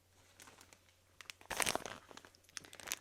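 Close, crinkly rustling of sticker sheets and plastic packaging being handled, with quiet crackles building to a louder burst of crumpling in the middle and then continuing in smaller bursts.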